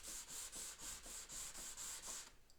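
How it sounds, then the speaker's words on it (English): Rhythmic back-and-forth wet sanding of a wooden sewing cabinet table's surface, about nine even strokes close by, with no talking. "basically wet sanding this section of the table"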